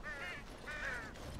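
Two harsh, drawn-out raven caws ring out one after the other in a Dragon Age: Origins game scene, standing out clearly over a low, steady ambient backdrop.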